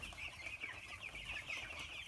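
Chickens clucking steadily inside a warm, enclosed poultry shed with mesh doors and lights off, a dense continuous flock murmur with scattered calls, moderately close and without speech.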